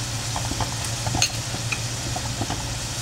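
Onions frying and sizzling in a hot pan for pork sisig, a steady crackling hiss with occasional stirring scrapes and a low hum running underneath throughout.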